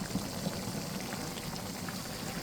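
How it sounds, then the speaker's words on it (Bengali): A little hot water goes into a pan of cooking hilsa fish curry with ridge gourd, making a faint, continuous bubbling simmer with small scattered pops and no talking. "এখন আমি এখানে সামান্য পরিমাণে গরম জল দেব।"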